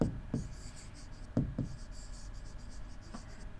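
Marker or chalk strokes on a board during a maths lesson on pentagon angles, a few short sharp taps and scrapes spaced across a quiet room, close and moderately loud.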